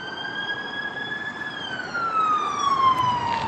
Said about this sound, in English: Hold on, an ambulance is coming.